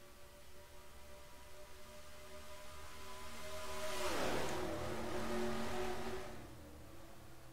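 Race cars surge past together at the start of a Red Bull Cup Series stock-car race at Chicagoland in a racing video game, their engines swelling from a steady drone to a loud passing roar, then fading.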